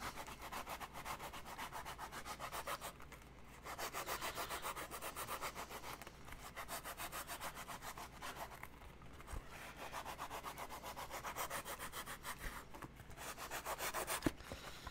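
Steady back-and-forth rubbing of sandpaper by hand on a hard costume piece, in rhythmic strokes with a few brief pauses, close and fairly quiet.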